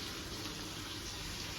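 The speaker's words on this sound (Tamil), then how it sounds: "தண்ணி ஊற்றி வைய" Water runs steadily into a cooking pot, making a continuous, fairly quiet splashing gush with no talking.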